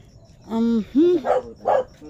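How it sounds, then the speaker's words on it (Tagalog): A dog at a house barks and yips several times at close range, with whimpering harmonic tones between the barks and no speech over it. "may aso kasi kaya hindi makapasok kami"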